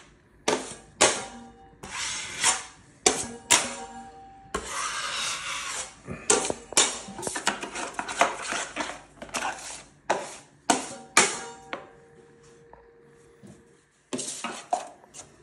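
A drywall knife scrapes joint compound across a ceiling crack in a series of sharp, rasping strokes, each starting with a bright scrape that fades, with a few brief pauses between passes.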